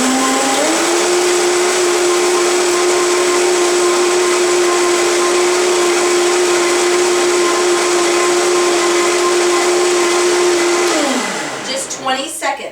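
A Vitamix 5200 blender runs at high speed, a loud steady motor whine with a constant high hiss that holds for about ten seconds, then winds down to a stop.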